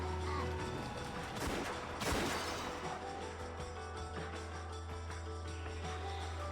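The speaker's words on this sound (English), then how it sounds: "The two yells and the sound of gunfire thundered across the dark rose garden" Gunfire in the visual novel game Umineko When They Cry, a sharp crack followed by a rolling thunderous burst over a sustained low musical drone, then ringing decay into the background score.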